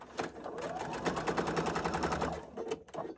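A sewing machine stitches steadily along the edge of fabric for a basket, a fast continuous mechanical rattle running close and loud for about two and a half seconds before stopping with a few short bursts.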